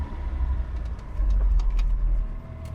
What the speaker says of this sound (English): It all sounds very almost like the engine's in here